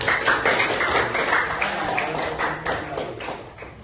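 Classroom of students applauding during a teaching practice session, a steady patter of claps from a small group nearby that continues throughout, fading slightly toward the end.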